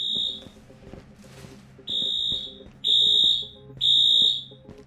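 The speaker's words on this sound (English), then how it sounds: "somebody triggered the alarm" A triggered in-game alarm in the survival game Dead Matter sounds in loud, sustained high-pitched beeps: one brief tone, a pause, then three longer blasts in quick succession over a low mechanical background.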